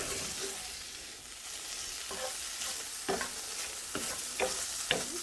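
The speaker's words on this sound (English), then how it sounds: "So we're just gonna fry this up" Ham fries on low heat in a covered pot with a soft, steady sizzle, while intermittent clinks and scrapes of stirring grow more frequent toward the end.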